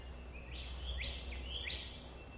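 Grey thrushes call during a territory dispute, three clear rising whistled notes at an even pace, moderately distant over a low, steady rumble of background noise.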